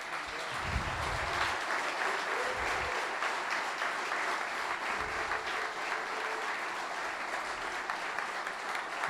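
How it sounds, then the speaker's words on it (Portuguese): Congregation applauding steadily at a pastors' conference question-and-answer session in a church, a sustained wash of clapping with a few cheers, with no speech over it. "E queremos dar uma salva de palmas para o Senhor e para eles."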